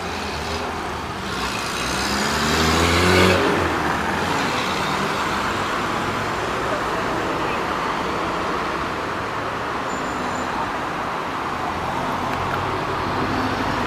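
Motorcycles thread between lanes of city road traffic, a rising engine pass swelling and fading early on, then a steady wash of car and engine noise continues, fairly loud, with no talk.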